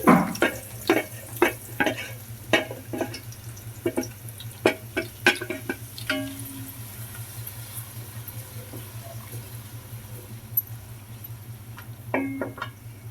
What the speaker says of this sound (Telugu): ఇవైతే చక్కగా గోల్డెన్ కలర్ వచ్చేంత వరకు వేయించుకోవాలండి